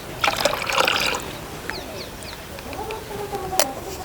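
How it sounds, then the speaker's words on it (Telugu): Water is poured into whisked yogurt for a cucumber buttermilk curry, giving a faint, soft trickle that runs for a few seconds close by, with a brief louder rustle near the start. "ఇప్పుడు రుచికి సరిపడా ఉప్పు వేసుకుని చిక్కదనానికి సరిపడా నీళ్ళు కూడా పోసుకుందాం"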